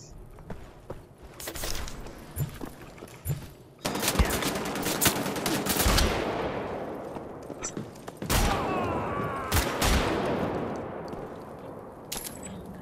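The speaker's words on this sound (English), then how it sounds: "this is one mean shotgun" Shotgun blasts and other gunfire crash in bursts through a combat scene in the castle keep of the video game Wolfenstein: The Old Blood, loud and close over a churning game backdrop.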